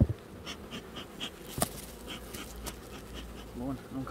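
Honey bees buzzing in an apiary hive treated with oxalic strips, a dense close drone of many insects with scattered individual buzzes and a few faint knocks.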